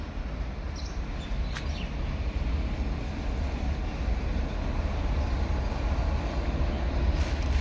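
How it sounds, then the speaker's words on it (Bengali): A passenger train on the Sealdah line rumbles past with a steady low roar of wheels on track, continuous and fairly close, with faint high squeals above. "একটা ট্রেন আসছে, একটা দাঁড়িয়ে আছে, এদিক থেকে ওদিকে যাবে।"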